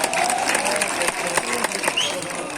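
A Bru community gathering hears sustained audience applause after a speaker announces a donation toward Hojagiri. The dense, steady clapping fills the room at close range, with crowd murmur blended in.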